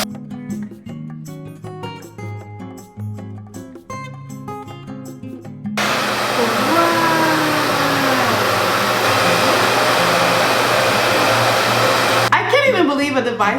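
A Revair blow dryer switches on at its highest power setting and highest heat, a loud steady whooshing roar that cuts in after a few seconds of talk and runs continuously before stopping abruptly.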